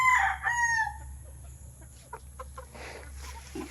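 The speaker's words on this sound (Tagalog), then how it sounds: "Ating munting manukan. Meron lang po tayong ilang manok." A rooster crows loudly and nearby on a small backyard chicken farm with only a few birds. The single crow is followed by faint scratching and scattered clucks over a low steady hum.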